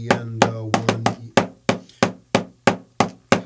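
Double stroke roll practice on a drum, accented: a steady run of about a dozen sharp, ringing wooden strokes, some paired closely at first, then evenly spaced with louder accented hits, close and without speech.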